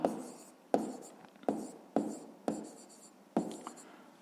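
A pen writes on paper during a fifth-grade math exercise, six quick scratchy bursts of strokes separated by short pauses, close and quiet.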